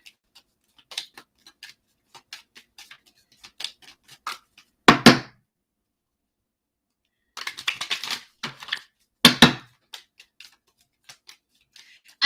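Soft papery riffles and light clicks of tarot cards being shuffled, with two louder bursts of quick riffling standing out against near silence.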